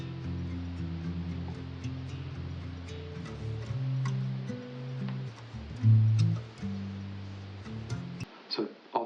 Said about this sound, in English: I just put down this arpeggio I played on the same nylon guitar